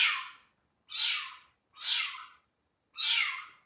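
A cat meows four times in a steady, evenly spaced series, each call close and clear with silence between them.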